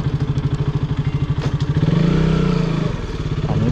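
Motorcycle engine idling with a rapid, even putter, briefly swelling into a louder rev and clatter midway as the bike is brought to a stop and parked nearby.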